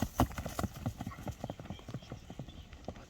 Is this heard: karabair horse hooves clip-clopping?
yes